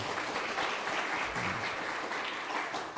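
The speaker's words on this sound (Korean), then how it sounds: "우리 수고했다고 한번 박수로 한번 격려해 주시고요" Congregation applauding the choir during a revival service at a church in Montreal; a full, steady wash of clapping from many people in the sanctuary, continuous for the whole stretch.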